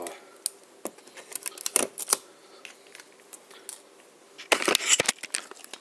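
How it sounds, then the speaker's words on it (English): Scissors snip and crinkle open a Gatorade Zero Sugar grape drink mix packet, giving a series of sharp, irregular clicks and cuts close to the microphone, with a louder burst of crackling near the end. "get scissors and you cut open"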